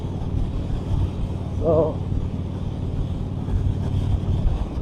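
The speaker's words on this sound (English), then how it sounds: "you are getting wind, and I don't have a windshield on, so of course all the wind is hitting me" Steady roaring wind buffeting through an ATLAS 3.0 helmet while riding a motorcycle on the highway with no windshield, loud and continuous, with a voice briefly heard over it.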